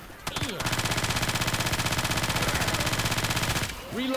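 Rapid automatic gunfire from Left 4 Dead 2, set in The Parish, rattles loudly in one sustained burst of evenly spaced shots lasting about three seconds, with brief game noise before and after.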